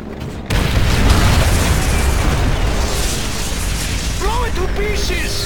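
Heavy tank cannon blast and sustained explosion rumble from the Call of Duty video game, a sudden loud boom at the start followed by a long roaring tail with faint higher whistles near the end.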